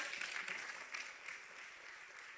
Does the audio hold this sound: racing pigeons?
no